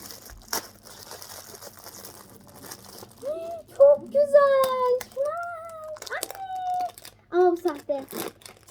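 Plastic wrapping of a LOL Surprise doll package crinkles and tears up close in short bursts, with children's excited voices and squeals talking over it.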